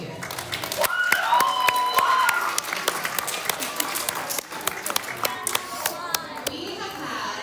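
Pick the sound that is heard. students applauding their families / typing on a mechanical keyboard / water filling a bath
students applauding their families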